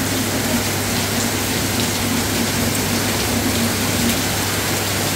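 Heavy rain pours steadily, a dense, even hiss of drops hitting surfaces, with a faint low hum underneath.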